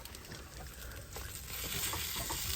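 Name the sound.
stirring shepherd's pie mixture heating on the stove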